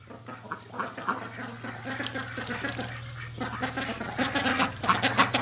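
Several ducks quack and chatter nearby, overlapping calls rising and falling over a low steady hum.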